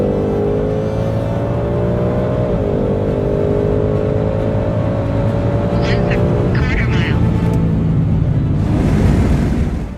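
A completely stock Ford Shelby GT500 pulls hard from 60 to 130 mph, its engine note rising steadily with a shift partway through, loud and continuous while someone talks over it.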